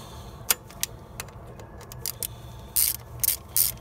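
A wrench ratchets in short, faint bursts while A/C line fittings are snugged down on a Jeep ZJ, the clicks growing louder and denser toward the end, with no voices.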